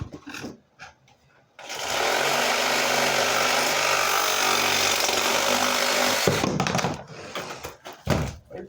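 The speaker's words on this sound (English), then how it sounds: "When you're cutting with a PVC with a Sawzall, first you want to make sure you're being safe." A reciprocating saw (Sawzall) cuts through PVC drain pipe for a vanity drain line, giving a loud, steady buzzing rasp for about five seconds. Brief handling knocks come before and after the cut.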